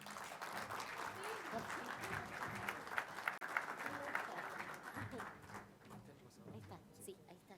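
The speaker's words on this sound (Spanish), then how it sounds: "Un aplauso para Mónica." Conference audience applauds a speaker, a moderate wash of clapping that fades after a few seconds while voices and some handling noise continue underneath.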